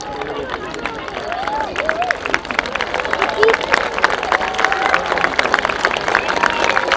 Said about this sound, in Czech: Děkujeme za váš potlesk.